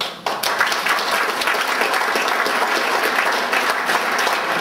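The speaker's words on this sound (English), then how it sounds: "you need to give yourself a round of applause for America and for you being here tonight" A crowd at an evening talk on the national debt breaks into a loud, sustained round of applause, many hands clapping densely and evenly from start to finish.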